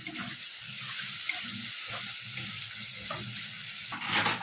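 Tomato paste, chili powder, ginger paste and green chili fry in a pan while a spatula stirs them, producing a continuous close sizzle broken by scraping strokes.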